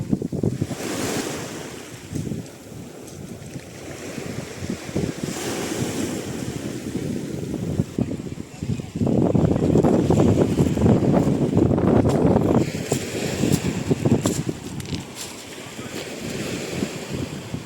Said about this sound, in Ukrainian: такі хвилі, такий шум моря.